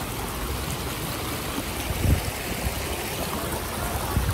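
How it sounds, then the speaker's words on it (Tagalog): A shallow creek flows steadily, a dense close wash of rushing and trickling water that holds even throughout, with no voices. "Nandito tayo sa may sapa-sapa."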